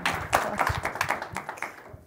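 An audience claps for a fireside chat on innovation, climate and security at the Legatum Center, with a steady patter of many hands close by for about two seconds before it thins out.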